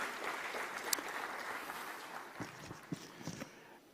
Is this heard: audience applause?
yes